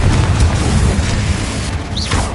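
Blasting spell explosion in a wizard video game, a loud, sustained rumbling boom with a rising whistle-like tone near the end.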